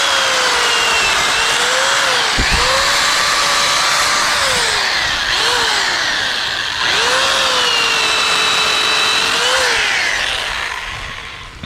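A SunJoe electric chainsaw cuts firewood, its high motor whine rising and dipping in strained pulls as the chain bites, with a brief loud thunk partway through, all close and continuous.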